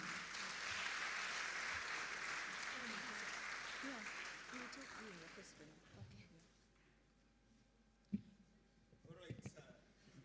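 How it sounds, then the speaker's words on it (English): An audience claps loudly as a conference presentation ends, a dense wash of applause that gradually fades out, followed by scattered voices and a few thumps. "That hand clap means a lot"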